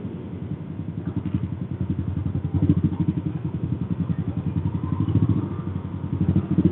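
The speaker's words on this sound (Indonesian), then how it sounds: "Nih kayak motor di depan gua ya knalpot racing" A motorcycle with a racing exhaust idles with a loud, raspy, throbbing exhaust, a steady rapid pulse that swells slightly, close by and alone.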